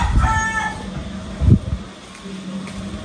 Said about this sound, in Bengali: ডাক দিল কি? দেশি মুরগি না ফার্মের মুরগি?